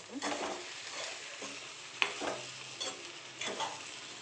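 Puffed rice being stirred and fried in a pan for a Rayalaseema-style dish, cooked on low heat. A soft, steady sizzle runs throughout, broken by several scraping stirs and one sharp clink of the utensil near the middle.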